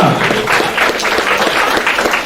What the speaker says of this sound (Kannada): ನಿಮ್ಮ ಪ್ರೋತ್ಸಾಹ ಇನ್ನೂ ಜೋರಾಗಿ ಚಪ್ಪಾಳೆ ಮೂಲಕ